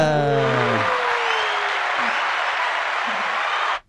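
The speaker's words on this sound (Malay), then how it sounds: "Wow, tepuk tangan." Applause in a podcast studio, breaking out right after a voice trails off and holding as a steady, close wash of clapping before cutting off sharply.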